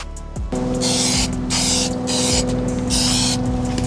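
Aerosol spray paint going on as a first coat over black plastic car trim on an E30: close, loud hissing bursts, four main passes over steady background hum.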